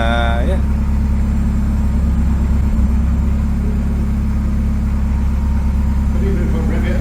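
A Ford Escort Mk1 restomod with a swapped Cosworth engine idles loudly and steadily up close, a deep constant rumble with people talking over it.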